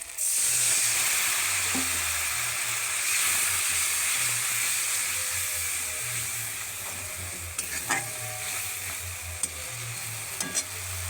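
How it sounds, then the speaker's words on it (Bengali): Spiced masala sizzles loudly in a pan as a little water is added for frying, a steady bright hiss with stirring clinks and scrapes throughout. "এবার দিয়ে দেব অল্প পরিমাণে মশলা কষানোর জন্য জল"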